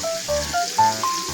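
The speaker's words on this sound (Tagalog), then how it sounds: "Ngayon po ay sasabawan po muna natin" Preheated water poured as broth into a pot of lomi noodle soup with cubes and carrots makes a loud, close, gurgling stream in several short bursts.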